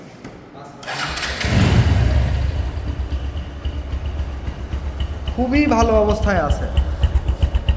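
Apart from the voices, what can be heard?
Bajaj Discover 135 motorcycle engine running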